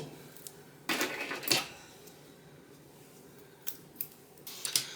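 Scissors snipping through a strand of chunky yarn during finger knitting, heard as a few crisp close cuts around one to one and a half seconds, then more short snips near the end against a quiet room.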